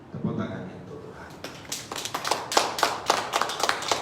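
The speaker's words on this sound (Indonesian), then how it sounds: "Tepuk tangan untuk Tuhan" A church congregation breaks into clapping for God during a sermon, a voice heard first, then sharp, fairly steady claps building into a lively round.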